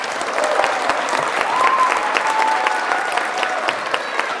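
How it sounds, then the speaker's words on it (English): A crowd at an adult education commencement ceremony claps loudly and steadily for a graduate receiving a high school equivalency diploma, with a few faint whoops mixed into the sustained applause. "Give him another hand clap."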